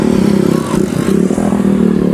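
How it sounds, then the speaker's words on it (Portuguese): Noisy motorcycle on Sipora island in the Mentawai Islands, Indonesia, its engine rumbling loud and close in a steady, continuous drone with slight rises in revs. "Aqui tem as motos barulhentas também."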